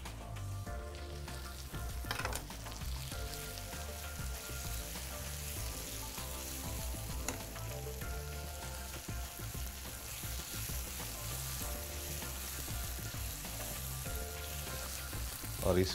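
Long tomato chunks roast in a pan, a soft continuous sizzle and crackle with occasional stirring scrapes, fairly quiet and without voices.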